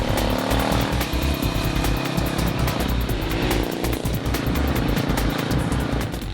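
A CCM R30 supermoto with an oil-cooled 644cc Suzuki single thunders loudly and continuously, a rough, throbbing engine note held steady throughout at close range, with no talking.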